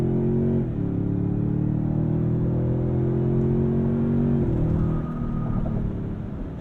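A 2023 Toyota Sequoia's 3.5 liter twin-turbo V6 pulls hard, its engine note rising steadily under a loud interior rumble. It drops at a gear change, climbs again, then shifts and eases off near the end, and no voices.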